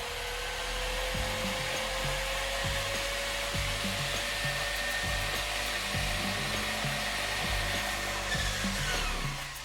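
Steady whirring fan motor noise in a radio-controlled car with a constant hum, broad hiss and faint rhythmic low rattling, continuous and fairly loud throughout, no voices.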